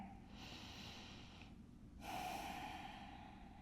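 A long, deep inhale followed by a fuller exhale during a Pilates stretch, close and soft against a quiet background, with no speech.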